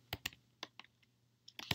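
Quiet, close typing on a computer keyboard while entering a command into a router line console, a handful of light irregular key clicks with brief gaps over faint background hum.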